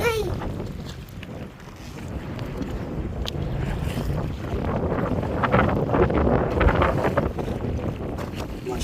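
Boat moving on Lake Eyasi during fishing, a steady wash of water and wind buffeting the microphone throughout, loud and close.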